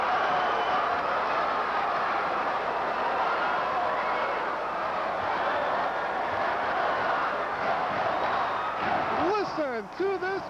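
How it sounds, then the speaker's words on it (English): Packed gym crowd at a 1994 Illinois high school boys basketball sectional final roaring steadily after a three-pointer, a loud sustained wash of cheering with a voice cutting in near the end. "Listen to this crowd."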